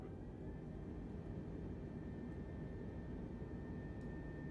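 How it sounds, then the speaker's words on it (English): Low, steady engine drone of an Airbus A320 airliner on landing approach in Microsoft Flight Simulator 2020, a quiet continuous hum with faint high tones and no voices. "let's go ahead and land the plane"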